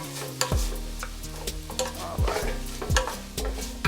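Pre-cooked chickpeas stirred in a hot pan for a Ghanaian red red stew: steady sizzling frying with repeated scraping strokes of the spoon, close and moderately loud, no talking.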